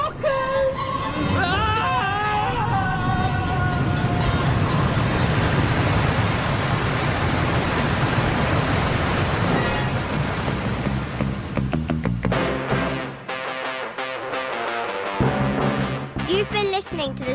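Loud rushing water effect from the 2002 comedy The Sofa of Time, a broad roaring wash of noise that fills most of the stretch before thinning out, with voices reacting near the end.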